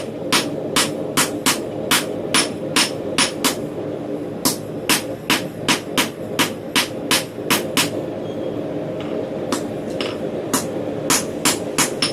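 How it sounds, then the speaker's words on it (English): Repeated sharp hammer strikes on hot metal while forging a one-piece knife ring out in a steady rhythm, roughly two per second, over a low continuous roar, with a short pause before the blows resume. "as you lose heat in your workpiece, you want to make your hammer blows less hard"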